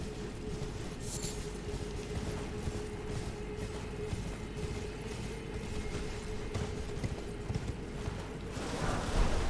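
Horse hooves clip-clop at a steady trot in the Elden Ring video game, a continuous rhythmic clatter over low rumbling game ambience with no talk.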